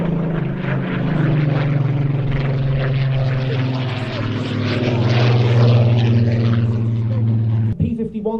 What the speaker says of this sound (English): P-51D Mustang.